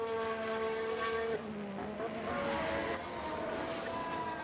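An F1 race car in the F1 Manager video game at the Hungarian Grand Prix locks up its tyres in a brief skid over a steady engine whine, with the engine note dropping as the car slows.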